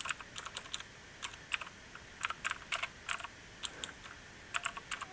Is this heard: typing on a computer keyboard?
yes